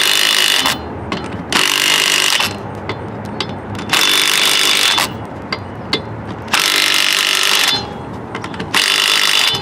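A ratchet wrench tightens the lug nuts on a car wheel after a flat tire fix. Loud, close bursts of rapid clicking ratcheting come four times, with short pauses between them.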